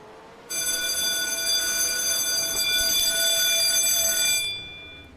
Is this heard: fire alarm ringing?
yes